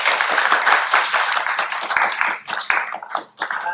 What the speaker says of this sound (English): Round of applause for this young man.